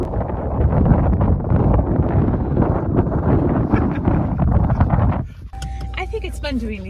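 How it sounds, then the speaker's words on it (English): Strong, freezing wind outdoors on a farm, a loud continuous roar buffeting the microphone for about five seconds before abruptly cutting out, followed by faint tonal sounds. "there's a really strong wind"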